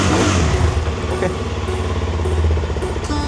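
A CFMOTO 300SR motorcycle engine runs close by, revving with a steady throbbing hum and light mechanical clatter that rises and falls slightly throughout.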